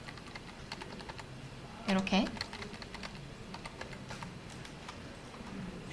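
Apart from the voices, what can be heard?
typing on a computer keyboard for English typing practice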